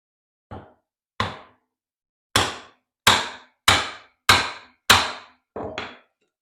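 Eight sharp wooden mallet whacks strike a woodworking chisel, loud and close, spaced unevenly at first and then in a steady rhythm, each hit ringing out and decaying quickly into silence.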